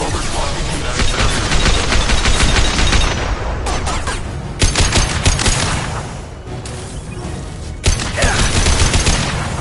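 Dense sci-fi gunfire in a Mass Effect 2 firefight, loud continuous bursts with rapid shots and a few heavier impacts, filling the whole stretch with barely a pause.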